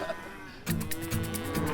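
A cow on a cattle ranch lets out a close, loud, drawn-out moo that starts abruptly after a brief quiet moment and carries on with a second deep bellow.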